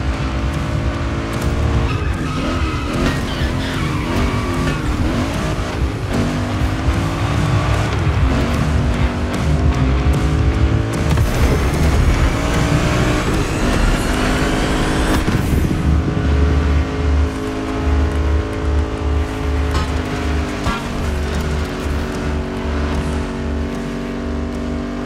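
Race cars roar through a video game race in The Crew Motorfest, with loud sustained engine whine, rising and falling revs and repeated tire squeals as they skid, continuous and close throughout.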